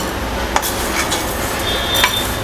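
Roasted urad dal and chana dal are scooped out of a hot pan. The mix sizzles steadily, and a couple of sharp metal-spoon scrapes stand out against the hiss.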